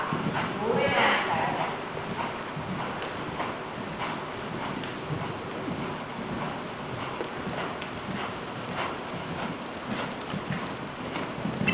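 Horse hooves clip-clopping in a steady rhythm during a riding training session, a hot-tempered horse moving continuously under a trainer's spoken instructions and background arena noise.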